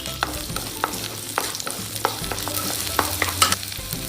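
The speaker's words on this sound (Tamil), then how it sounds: "இப்போ சின்ன வெங்காயம் பூண்டு வதங்கிடுச்சுங்க." Small onions and garlic sautéing in a pan for a green coriander chicken: a steady oily sizzle with repeated scraping stirs of a spatula against the pan, close and clear, with no talking.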